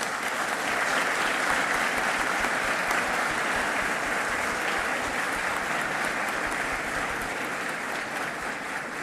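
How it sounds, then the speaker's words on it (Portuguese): An audience at a Holocaust victims' memorial ceremony applauds São Paulo governor Tarcísio de Freitas, with sustained, even clapping from a large crowd filling the whole stretch and no talk. "a quem peço uma salva de palmas"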